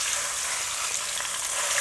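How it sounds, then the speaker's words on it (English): Ground beef browning in hot oil in a pan, giving a steady, close sizzle and crackle of frying that holds evenly throughout with no talking. "Okay, got the oil nice and hot. Pan's all hot. Go ahead and brown all your beef right in there."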